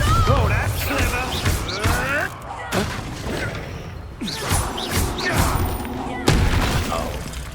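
Bombarda explosion spells in Hogwarts Legacy go off as repeated loud crashes and booms with sharp swishes, amid chaotic spell combat and overlapping game voices.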